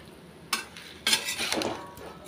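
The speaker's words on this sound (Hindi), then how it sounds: "तो इसे चला चला कर भूनते रहेंगे।" A spoon scrapes and clinks against a pan as spiced taro (arbi) is stirred and roasted, giving a few sharp metallic knocks followed by a softer scraping swirl, close up with a faint sizzle underneath.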